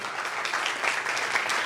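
A congregation claps loudly and continuously during a Resurrection Day prize-giving in church, a thick, even wash of hand claps with no break.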